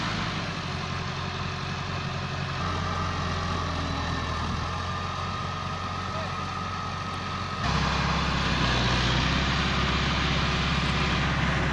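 Two Massey Ferguson tractors, an MF375 and an MF260 turbo, strain to haul a heavily loaded sugarcane trolley; steady diesel engine drone close by, rising louder partway through as the engines work harder.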